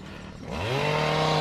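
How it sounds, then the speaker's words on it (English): A chainsaw starts up and its engine revs rising to a steady high whine, fairly close, in a quiet garden setting in St Ives, Cornwall. "We got a chainsaw today."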